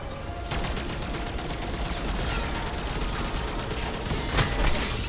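Rapid automatic gunfire in Black Ops 6 zombies mode, a sustained burst of evenly spaced shots running for several seconds, close and loud, with a heavier blast near the end.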